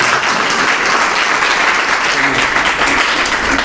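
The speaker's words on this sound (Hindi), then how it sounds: "एक बार और घनघोर तालियां हो जाए।" An audience at a college poetry gathering (kavi sammelan) claps loudly and steadily, a thick sustained round of applause with faint voices mixed underneath.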